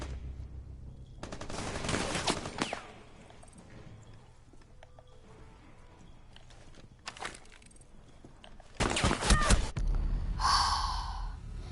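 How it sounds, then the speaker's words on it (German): Gunfire in the Rainbow Six video game, several sharp automatic bursts with quieter stretches between, heard close and loud over faint game ambience. "Schau hier, er schießt random ein und holt mich, Mann."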